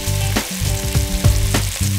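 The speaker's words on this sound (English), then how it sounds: "Once it's hot, I add in the ground beef and break it up as it begins to cook." Ground beef fries in hot oil in a saucepan, a steady loud sizzle with a few scraping stirs breaking up the meat, no voices.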